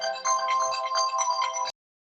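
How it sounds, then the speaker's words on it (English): A phone's electronic ringtone sounding for an incoming call, one short melodic burst lasting under two seconds, clear and close, that cuts off abruptly into silence. "Sorry, got a call coming in."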